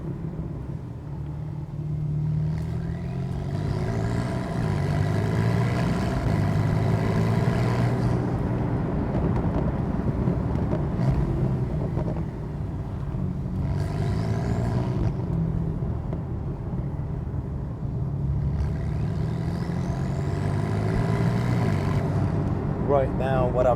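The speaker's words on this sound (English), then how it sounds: "just driving it in the sports mode" A Porsche 991.2 Carrera GTS driven in sport mode gives a steady engine drone with rising and falling revs, heard from inside the car beneath someone talking throughout.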